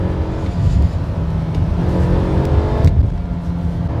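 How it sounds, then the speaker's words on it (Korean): The gasoline engine of a Renault Samsung QM6 GDe in manual mode revs continuously with a throaty, rising drone, heard from inside the vehicle at steady loudness. "수동 모드로 하니까 좀 더 경쾌한 엔진 사운드"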